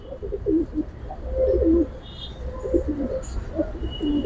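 Giribaz and racer pigeons cooing close by in repeated soft, throaty bursts, with a faint background hum and occasional distant chirps.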